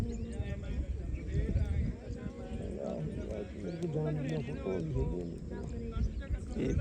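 Horse hooves clip-clop in a steady rhythm while people talk over the sound.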